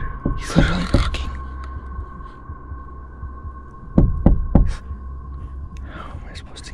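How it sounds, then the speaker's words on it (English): A man knocking on a truck, heard as a few dull, heavy thuds in two separate clusters over a low steady hum, with faint whispering-like noise in between. "After walking around the truck, you can hear the man knocking."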